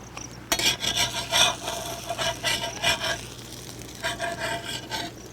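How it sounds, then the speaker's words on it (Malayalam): A utensil cuts through a large emu egg omelette in a pan during village-style cooking, giving quiet, irregular scraping and rasping strokes in short bursts with brief pauses between them. "നമുക്ക് കട്ട് ചെയ്യാം. 4 പീസായിട്ട്"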